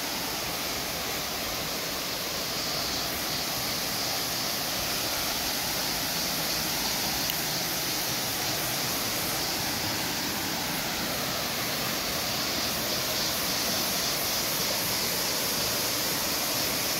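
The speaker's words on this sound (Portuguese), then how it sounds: "Cachoeira do Perigo." Waterfall at Cachoeira do Perigo in Guaramiranga, Ceará, reached by a 240-metre stairway trail: a steady, dense roar of falling water, close and continuous throughout with no voices.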